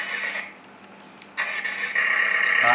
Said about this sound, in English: And engine sound.